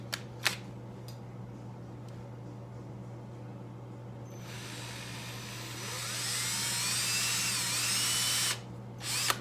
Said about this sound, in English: I'm drilling on an angle because my center punch mark isn't quite center because the bolt's broken on an angle